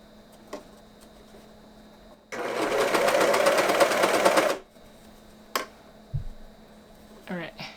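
A sewing machine stitches ribbing fabric in one steady, rapid mechanical run of a little over two seconds, loud and close, with quiet handling clicks and a brief voice around it.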